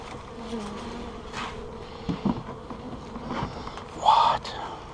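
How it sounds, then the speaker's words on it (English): Honeybees buzz in a close, fluctuating drone with a louder surge near the end during hive box work and a nuc transfer, mixed with faint handling noise and brief scattered movement sounds. "That was a bunch of bees."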